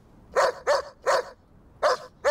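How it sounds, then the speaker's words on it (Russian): A dog barks five times in a sharp, evenly spaced series, each bark loud and close with short silences between. "Неужели этот пес залаял?"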